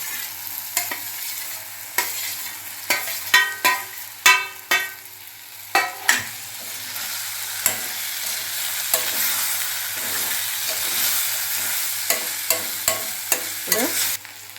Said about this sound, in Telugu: ఇప్పుడు మనము ముక్కలు కోసి ఉంచుకున్న ఈ చెనగపిండి ముక్కలు కూడా వేసేద్దామండి